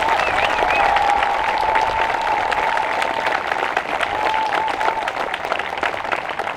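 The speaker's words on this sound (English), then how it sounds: "I just want to give another hand clap to that young lady who just wrote that amazing." Audience applause at a school speech event in Parkrose honoring a young woman's writing, steady dense clapping throughout with faint crowd murmur and a few whoops.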